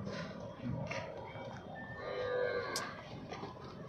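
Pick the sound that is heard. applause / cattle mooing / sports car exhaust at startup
cattle mooing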